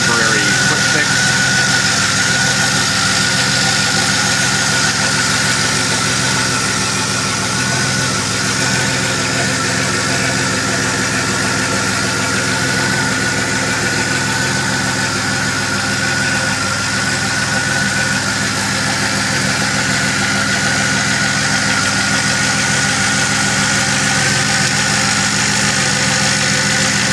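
A DeLorean engine idling steadily after a temporary fix to a faulty cold start valve connector, with a loud, even mid-pitched drone and vibration that holds without change, running alone with no talk.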